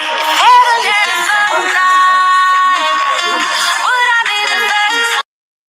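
A mobile phone ringtone plays loud and continuous, a bright, repeating electronic melody with layered tones that runs for about five seconds before cutting off abruptly.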